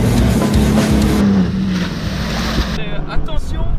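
Motorboat engine revving up to pull a water-sports rider on open water, a steady loud drone with wind and splashing, under a man's spoken instructions in French.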